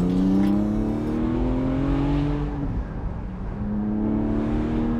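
Porsche 718 Spyder engine pulling in second gear at just under 3,000 rpm, a steady, rising droning note with strong low harmonics that eases briefly, then holds on, with no talk over it.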